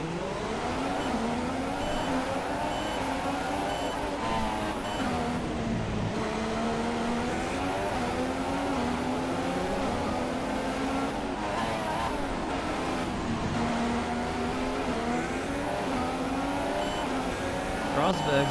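Engines of F1 cars from the game F1 2016 whine and rise in pitch at the start of the Baku Grand Prix, a steady layered drone through the run, with someone talking over it.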